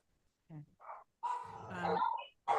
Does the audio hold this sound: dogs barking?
yes